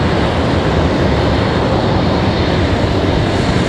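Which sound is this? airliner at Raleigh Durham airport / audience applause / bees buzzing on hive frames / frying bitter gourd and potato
airliner at Raleigh Durham airport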